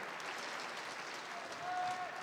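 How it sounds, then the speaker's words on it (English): An arena crowd applauds for mousesports at an IEM Sydney CS:GO quarterfinal, a dense, steady wash of clapping throughout, with a faint tone near the end. "Put your hands together, please, for mousesports. And while you're clapping"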